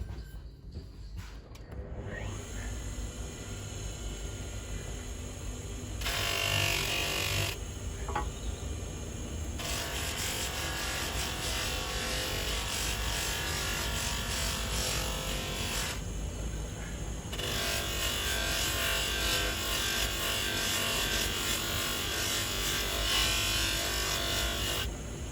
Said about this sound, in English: We have got fine scratches, but once I start polishing, I'll lose those.